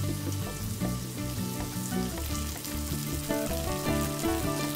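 Chilli prawns fry with soy, chilli and tomato sauces in a pan, a continuous hiss of sizzling underneath steady background music, no one speaking.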